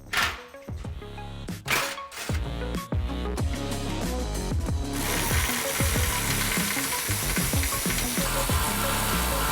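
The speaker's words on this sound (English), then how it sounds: "Loosen the 15mm nut on the clamp and remove the tailpipe" A hand ratchet works the 15mm clamp nut on the exhaust of a Ford F-150 Raptor, a close, loud run of rapid metallic clicks that starts in bursts and then turns into a steady, dense clatter.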